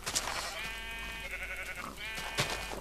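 Sheep in Minecraft bleating in a blocky video-game world: wavering harmonic bleats that run together across the clip, close and clear, with a sharp click-like sound near the start and another near the end.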